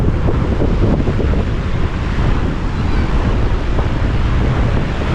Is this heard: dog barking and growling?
no